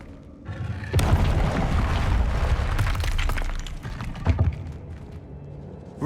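A Confringo blasting spell explodes in Hogwarts Legacy on PS5, a loud booming burst followed by crackling debris and a second sharper hit, with no talk over it.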